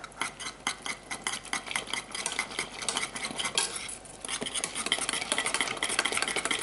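Lime chocolate pie ingredients are whisked briskly in a bowl over heat, making a continuous fast rhythmic scraping and clatter that pauses briefly midway, then picks up again more densely.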